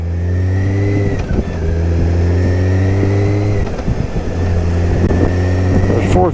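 A motorcycle engine revs steadily and shifts up through gears without the clutch, each shift a brief dip and step in pitch before the drone resumes, loud and close.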